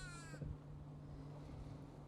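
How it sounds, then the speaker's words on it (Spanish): Crows near a lake give a short burst of harsh caws at the very start, then fade to quiet outdoor ambience with a steady low hum. "tenemos a nuestros amigos los cuervos"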